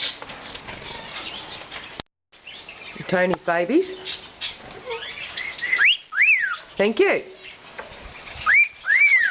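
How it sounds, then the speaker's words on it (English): Pet finches chirp and tweet in short bright bursts, mixed with whistling calls and a few wing flutters, heard close by while a person talks over them. "There's my finches."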